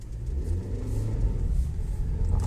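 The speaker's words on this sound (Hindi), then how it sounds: "सेकंड गियर में भी आता है और थर्ड गियर में कुछ ज़्यादा ही आता है। हमिंग नॉइज़ है ये वाला।" Steady low rumbling hum from a Hyundai Grand i10 petrol with a faulty manual gearbox while driving in gear, a continuous droning road and drivetrain noise heard inside the car, with no talk.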